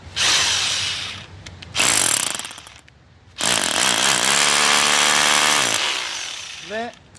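Loud hammer drill bursts in impact mode, three separate runs of harsh rattling drilling with short pauses between, close up, with a brief voice near the end.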